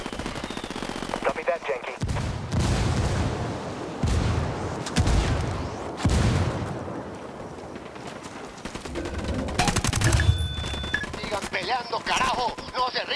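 Rebel gunfire in the game Ghost Recon Wildlands: bursts of automatic fire and sharp shots with occasional booms, loud then easing, with a short radio voice and talk over it.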